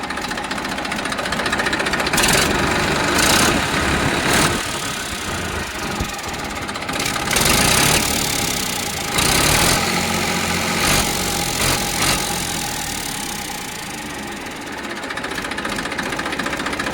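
A Massey Ferguson 1035 diesel tractor engine idles steadily nearby with a low rhythmic chug, while some louder bursts of noise come and go over it.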